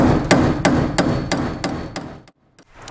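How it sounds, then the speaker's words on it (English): Sharp hammer blows drive a glass run channel into the side window frame of a 1967–72 Chevy or GMC truck, about six evenly spaced strikes followed by two lighter taps after a short pause, close and loud with no talk. "I can hammer this through the rest of the way"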